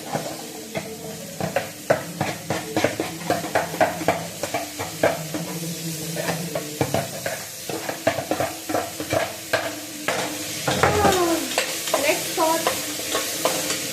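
Cut vegetables stir-fried together in a hot pan for a home-made pulao turned tomato bath, with rapid repeated spatula scrapes over a continuous sizzle, close and fairly loud, no voices.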